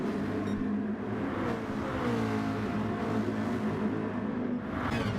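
A race car engine in a racing video game holds a steady high whine and revs continuously throughout, loud and close, with no speech.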